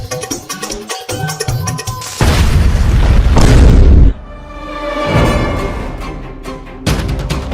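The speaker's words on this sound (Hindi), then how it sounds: "देखिए मेरा बम तो टक्कर देगा जी" A Diwali firecracker bomb goes off with a loud booming burst that rolls into a sustained roaring blast, then crackling decay and another bang near the end, with no talking.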